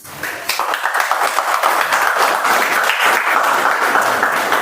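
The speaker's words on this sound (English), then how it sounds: "these guys are clap master. For everything they clap." A Toastmasters meeting audience claps enthusiastically, dense sustained applause from many hands that holds steady throughout.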